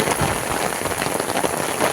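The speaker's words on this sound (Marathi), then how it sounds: "पाऊस असा चालू आहे बघू शकता" Heavy rain pours down in a dense, steady hiss with a constant patter of drops striking surfaces close by, and no voices.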